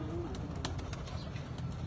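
Breeder pigeons in a coop give soft, low cooing that runs under a steady murmur of ambient noise, with a few faint flutters.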